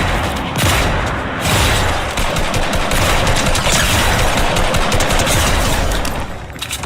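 Rapid bursts of gunfire from the video game Fortnite rattle loud and dense throughout, with overlapping shots and a few heavier booms in a continuous barrage.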